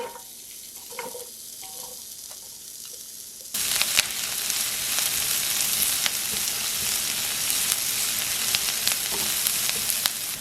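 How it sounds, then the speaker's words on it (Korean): Sliced onions hit hot oil in a pan. A quiet stretch with a few light clicks suddenly gives way to a loud, sustained frying sizzle with scattered pops and crackles. "팬에 포드씨유 두르고 썰어놓은 양파를 먼저 볶아요"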